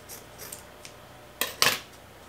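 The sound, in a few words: scissors cutting a piece of cloth headboard upholstery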